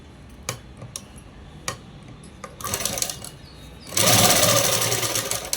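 Sewing machine stitching a child's langa jacket: a few isolated clicks of the mechanism, then short bursts of rapid close stitching that end in a louder, sustained run.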